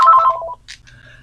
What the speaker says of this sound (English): I have to take this phone call.